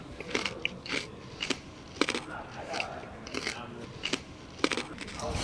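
Close, quiet mouth noises of someone chewing maple and horseradish food, with intermittent crunchy, wet bites and smacks in an irregular rhythm.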